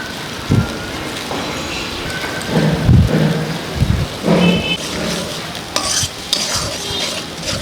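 Turmeric, chili and coriander powders being stirred into a frying pan for a fish curry, with repeated close scraping stir strokes in bursts over a constant loud sizzle; no one speaks.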